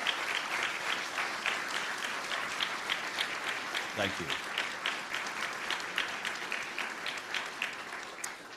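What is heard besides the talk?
audience applause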